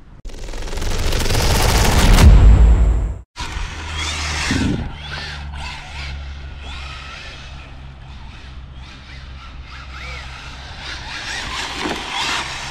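An Arrma Vendetta 6S RC car with a Cobra 10 ESC and a Bittydesign GTR body runs at speed. A loud rising electric whine and rush builds for about three seconds, cuts off, and is followed by fainter passes and whirring.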